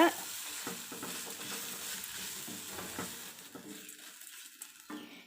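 Grated coconut sautéed in a frying pan, with a soft sizzle underneath repeated scraping and stirring strokes of a spoon against the pan, close and moderately quiet in an irregular rhythm.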